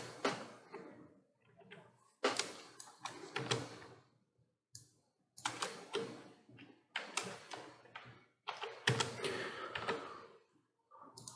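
Bursts of light keystrokes on a computer keyboard, clustered in quick uneven runs with short pauses between them, close and fairly quiet with no talking.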